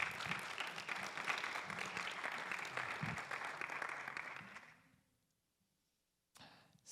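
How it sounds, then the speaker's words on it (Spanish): Church congregation applauding, a steady wash of many hands clapping at moderate distance that fades out into near silence before a brief sound returns at the end. "applause to the Lord."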